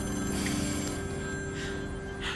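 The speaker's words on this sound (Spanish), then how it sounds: "¿Me da permiso de contestar el teléfono?" A telephone rings indoors with a steady, continuous electronic bell tone that holds loud throughout, and no one speaks over it.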